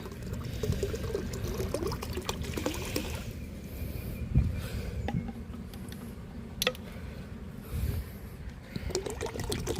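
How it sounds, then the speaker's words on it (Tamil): Liquid bio-fertilizer is poured into a container in a continuous, close splashing stream for about ten seconds, with small knocks and gurgles scattered through it. "ஃபுல்லாக உயிர் உரங்கள் எல்லாமே ஒரு லிட்டர் ஊற்றியாச்சுங்க நாலு லிட்டர் நம்ம ஊற்றியாச்சு"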